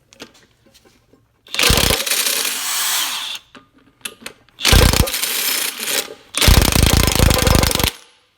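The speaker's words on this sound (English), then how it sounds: "I'm gonna have to try and get that bolt out now" An impact driver fitted with a non-impact bit hammers at a seized bolt on the dogbone engine mount of a Mk6 Volkswagen GTI, firing three loud, close, rattling bursts of one to two seconds each, separated by short pauses.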